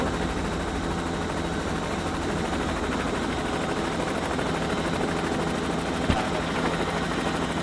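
Aircraft flying over the north side of Bismarck, North Dakota, on a 1981 aerial filming flight, heard as a constant loud rotor-and-engine roar from inside the cabin, with one sharp click near the end.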